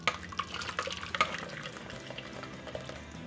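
Thickened honey mint ice cream base being poured into an ice bath, a steady watery splashing and trickling with a few brighter splashy bursts early on, close by with no talking.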